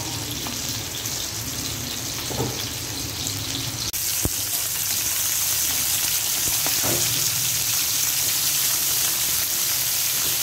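Chicken goes into a pan of sautéed garlic, onion, ginger, lemongrass and chili and gives a loud, continuous close-up sizzle that swells after a brief knock. Faint clatter runs through it, and no one speaks.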